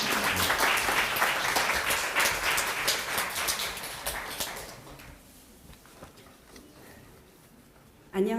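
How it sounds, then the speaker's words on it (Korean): A church congregation claps in warm welcome for a speaker, dense applause for several seconds that tapers into scattered claps and fades to near quiet. "우리 박수로 좀 환영하겠습니다."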